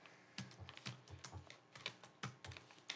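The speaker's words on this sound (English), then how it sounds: "I'd type that in there" A computer keyboard is typed on, with quick, uneven clusters of soft key clicks close by, entering a scripture reference.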